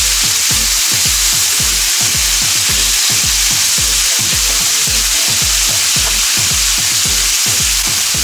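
Lamb chops, just flipped, sizzle loudly and continuously in a pan, with a regular low pulsing throb running under the bright frying hiss, close and with no talking.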